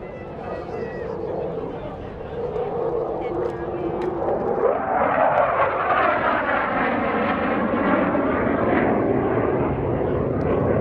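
F-16CJ Fighting Falcon fighter jet making a knife-edge pass at an airshow open house, its engine roar loud and steady, swelling midway as it passes and holding a broad rushing wash with rising and falling tones.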